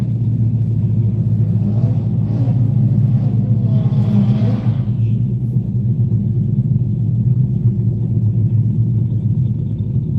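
Race car engine warms up on a track, a loud, steady low rumble from close by that swells briefly in the middle like a light rev, then settles back to an even idle.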